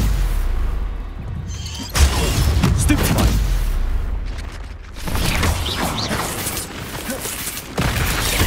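A Confringo fire-blast spell bursts in Hogwarts Legacy, a loud booming blast near the two-second mark followed by crackling, rumbling combat effects and further impacts throughout, with a voice speaking between.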